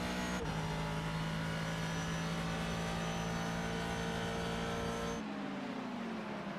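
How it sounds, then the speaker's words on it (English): A Ford GT3 race car's engine at the Spa circuit idles steadily with a deep, throaty rumble and high whine, then the pitch drops and the sound softens near the end. "the Ford has a special sound that I really love"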